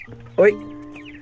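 Hens in a backyard chicken house give a short, loud cluck near the microphone, with a person speaking briefly over faint background clucks.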